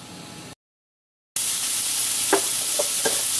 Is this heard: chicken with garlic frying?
yes